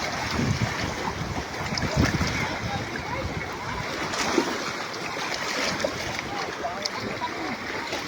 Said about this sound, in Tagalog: Pagkakusuga sa hangin